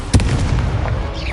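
A video game Incendio fire spell goes off with a sharp blasting burst followed by a crackling, whooshing fiery tail and a fading rush, short and close.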